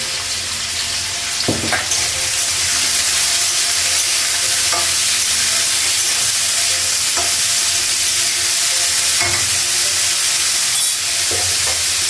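Potatoes fry in a pan with salt and turmeric, giving a steady close sizzle broken by a few sharp scraping stirs at irregular intervals.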